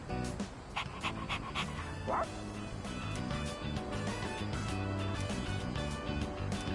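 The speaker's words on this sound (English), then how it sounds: "Yeah, Shutsuki's just a happy puppy." A happy dog character in a video game pants and gives soft little yips over a bed of background music, the sounds fairly faint and evenly spread through the clip.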